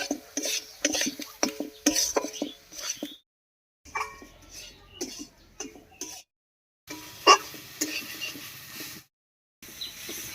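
Roasted coconut and spices with green chilli being stir-fried in a pan for a mankochu stem dish, with intermittent scraping and stirring clatter of a utensil against the pan, fairly quiet and close, broken by brief pauses.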